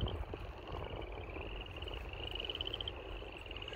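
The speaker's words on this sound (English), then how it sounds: "You hear all the frogs?" A chorus of many frogs croaking at night near Laramie, Wyoming, a steady high trilling pulse running continuously across the whole stretch, fairly faint and distant, with no voices.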